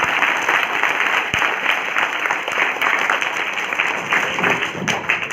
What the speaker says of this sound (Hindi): जोरदार तालियां हो जाएं बच्चों के लिए